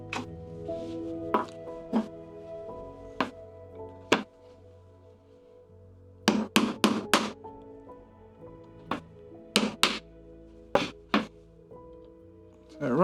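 Sharp mallet strikes on a chisel chopping dovetail waste from pine, a dozen or so crisp knocks in irregular clusters, some single and some in quick bursts, close and loud over a quiet workshop background.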